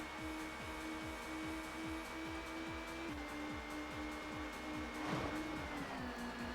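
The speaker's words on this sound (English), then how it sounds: "I just heard like a car like crash into somebody" Racing car in TOCA Touring Car Championship, an engine droning steadily with rhythmic gear-like pulses, then a brief broadband burst of a collision around the fifth second before the engine resumes.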